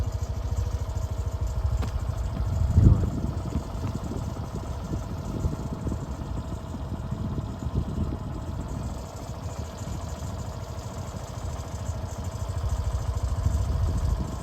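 A state transport (ST) bus engine approaches on a road through dense forest, a steady low mechanical drone with clattering texture, holding fairly constant and swelling slightly toward the end, with no talk.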